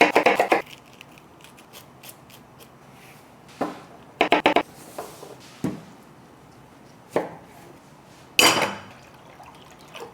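Jalapeños being chopped on a cutting board for tacos al pastor, with several separate knife strikes, some in quick clusters, spread across a quiet kitchen background.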